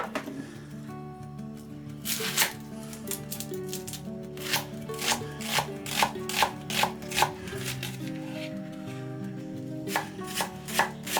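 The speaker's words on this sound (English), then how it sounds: "Just going to chop up this small onion." Rapid knife chopping on a cutting board, a run of crisp close taps in quick uneven bursts, briefly pausing and resuming.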